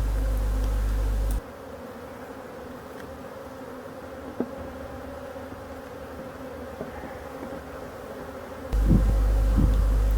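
Honey bees buzz around an open hive during a late-season inspection, a steady, faint, diffuse hum that runs throughout, with a few soft clicks and louder handling noise at the start and end.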